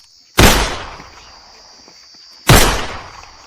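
Two sharp, loud gunshots ring out close by, about two seconds apart, each with a short fading tail, during a village confrontation with the Chaudhary's men.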